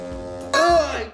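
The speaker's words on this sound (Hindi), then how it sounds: "यह एक हॉर्न है, देखिए, यह डॉक हडसन की चीज है।" Doc Hudson's horn gives a sudden, loud, bright blast after a half-second of low hum, its tone bending slightly as it holds and then fades.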